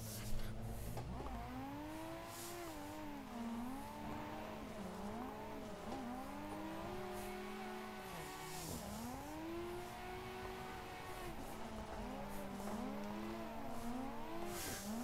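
A car drifts along a Japanese mountain road, its engine revving up and down in repeated sweeping climbs while tires squeal through the corners. The sound stays steady and fairly close throughout, with no voices.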